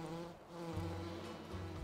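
Bees in the Farming Simulator 19 video game, buzzing steadily and fairly near throughout the short clip, alone with no talk.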